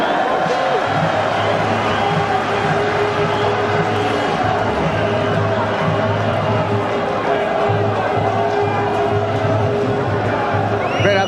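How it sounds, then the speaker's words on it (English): A large football crowd at Tolka Park during the 2002 FAI Cup final between Dundalk and Bohemians, a steady dense roar of the stands running throughout, with commentary voices carrying over the din. "It's as good a cup final crowd as they've had for quite a while."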